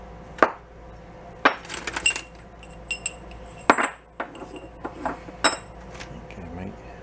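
Rummaging through a small can of miscellaneous metal parts in a fabrication shop, producing a series of sharp clinks and rattles in irregular bursts, close by, with occasional faint voices.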